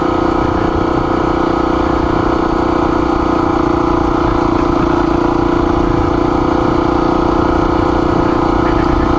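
A Honda XR400R motorcycle rides off-road, its engine drumming steadily and loudly at a mid pitch throughout, with no clear revving peaks and no talk.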